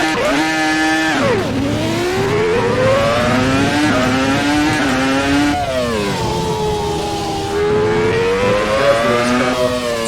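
A high-pitched V10 Formula 1 car engine in the Assetto Corsa video game screams continuously at Goodwood, its pitch dropping on a gear change then climbing and sweeping back up, loud and close with no talking.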